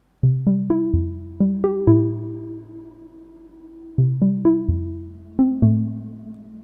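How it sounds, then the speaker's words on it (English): Bright synth plucks play in quick rhythmic bursts, each followed by a lingering reverb tail that fills the gaps, with a pause before the phrase repeats. "So you can hear how the reverb tails sort of fill up the empty spaces in between."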